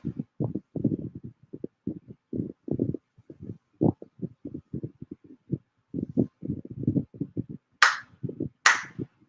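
Sharp ritual hand claps at a Konko Shinto shrine ceremony ring out close and crisp at the end, following a long stretch of steady murmured chanted prayer.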